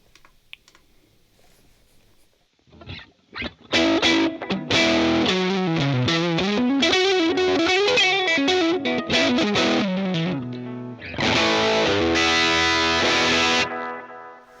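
Distorted electric guitar through an overdriven Fender Tweed '55 5E3 Deluxe amp emulation, starting with a few picked notes and then loud sustained chords and riffs, with a brief pause before more chords.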